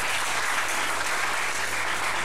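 Audience clapping at a stand-up comedy show, a continuous full wash of applause held at constant level throughout, with no voices on top.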